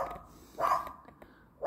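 A neighbour's dog barks once clearly at middle distance, with a fainter second bark starting at the end.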